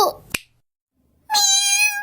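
An orange cat gives a single clear, drawn-out meow after a short click and a moment of silence.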